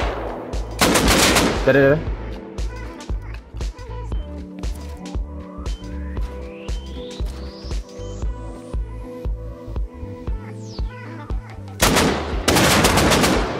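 Rapid automatic AK rifle fire in the survival game Rust, console version, crackling in repeated bursts with loud volleys at the start and end, while someone speaks briefly over it.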